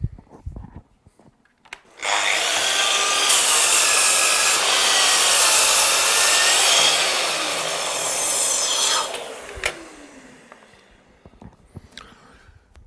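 A Festool Kapex KS60 mitre saw spins up and cuts through dimension timber, a loud sustained whine and rasping bite lasting several seconds before the motor winds down, with a few knocks around it.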